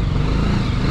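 Motorcycle engine idling and rumbling steadily at close range as the bike is ridden up and brought to a stop for parking, a loud continuous low drone with no talking.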